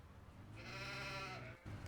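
A sheep in the farm game Farming Simulator 17 gives a single loud, drawn-out bleat lasting about a second, heard close and on its own with no talk.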